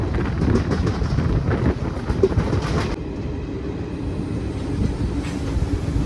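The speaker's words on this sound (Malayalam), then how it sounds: "അങ്ങനെ നമ്മുടെ ട്രെയിൻ മലപ്പുറം ജില്ലയിലെ പ്രധാന സ്റ്റേഷനായ തിരൂർ സ്റ്റേഷനിൽ വന്ന് കയറിയിരിക്കുകയാണ്." A Thiruvananthapuram–Kozhikode Jan Shatabdi Express rumbles into Tirur station in Malappuram with steady wheel clatter and rail noise, loud and close at first, then easing to a quieter hum as it slows.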